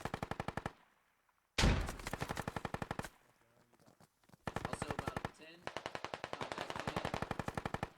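Rapid bursts of machine gun fire in the military shooter game Squad, loud sustained rattling volleys broken by short pauses, with one sharp blast and quieter distant shots between the bursts.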